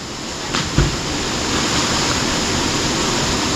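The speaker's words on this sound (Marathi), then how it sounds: "दोन्ही धबधबे आहेत ना एकदम जोरात वाहत असतात" Steady, loud rush of a monsoon waterfall filling the whole clip, a dense unbroken roar with a couple of brief splashes early on.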